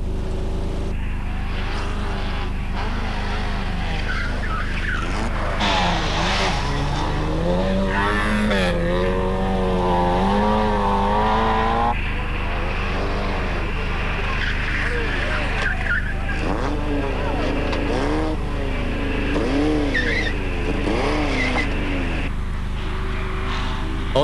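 Rally cars race on a drying road with slick tyres fitted, engines wailing and rising in pitch as they pass near and loud, with tyres slipping and a commentator talking over the continuous roar.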